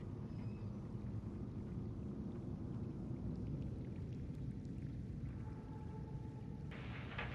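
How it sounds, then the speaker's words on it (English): A thunderstorm in the video game Subnautica rumbles as a dense, continuous roar of rain and low thunder, loud and unbroken, with a brief tonal whine and a brighter hiss near the end. "I said wait for the storm to pass."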